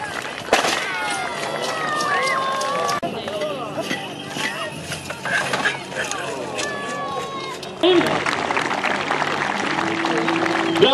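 Knights' horses charge at a tournament, their hoofbeats drumming steadily under an excited announcer and crowd noise, and the sound grows louder near the end.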